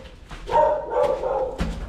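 A dog barks a few times, close and fairly loud, with short sharp yelps spaced unevenly over about two seconds.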